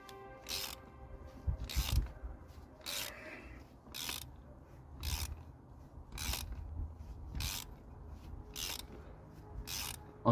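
A ratchet works loose the very tight spark plugs on a 1980s Toyota Supra engine. About nine sharp clicking strokes come at a steady rhythm of roughly one per second, close by, with no voices.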